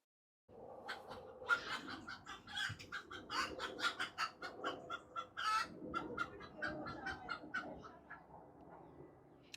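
Several chickens cluck and squawk inside a chicken house on an allotment in October, a busy, fairly close run of overlapping calls after a brief silence, continuing steadily throughout with no talking.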